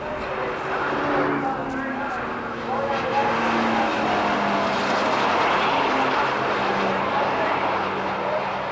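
Showroom stock race cars, led by a Porsche 924 and including a Mustang, a Datsun and a Mazda, roar steadily past at a national championship race, with a continuous blended engine drone under commentary.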